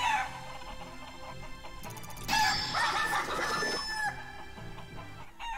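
Shenmue video game chickens cluck and squawk, with a loud flurry of flapping and crowing in the middle, then fainter clucks that trail off toward the end; nobody speaks.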